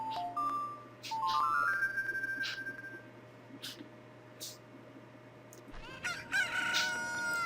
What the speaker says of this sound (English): A chicken hatched.